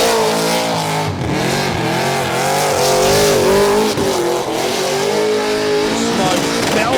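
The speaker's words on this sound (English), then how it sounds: "Smoke belting off the rear end of his Commodore." Holden Commodore race car doing a burnout with smoke pouring off the rear tyres, a loud sustained engine howl with rising and falling pitch and tyre squeal, close and continuous throughout.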